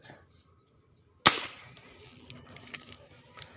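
A single sharp airgun shot cracks out while fishing and hunting outdoors, one loud close snap after a quiet stretch, followed by faint ambient rustle and low background noise.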